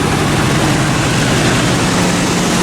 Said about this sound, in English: It's idling really high for some reason.